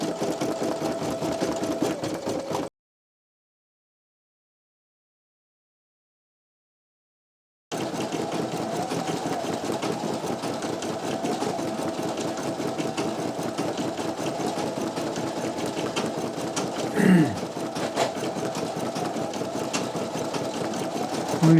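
A Brother PE900 or NQ1700E embroidery machine stitches out a design with a steady, fast mechanical hum. It cuts to silence for a few seconds, then resumes and runs evenly on its own.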